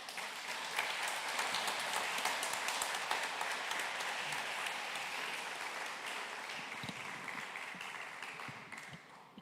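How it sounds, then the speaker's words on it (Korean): Congregation applause at a Korean Christian union worship service marking the 81st Liberation Day, a quiet, steady wash of many hands clapping from a distance that slowly tapers off near the end. "여러분 큰 박수로 환영해 주시면 고맙겠습니다."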